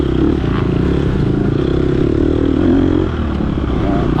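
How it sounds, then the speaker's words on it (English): Chain chatter from an off-road racing motorcycle braking hard into a corner, a dense rattling clatter mixed with loud engine roar throughout, close and continuous. "You can hear that chain chatter"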